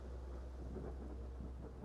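A thunderstorm with rain, with a continuous low rumble of thunder under dense steady rainfall, loud and enveloping throughout.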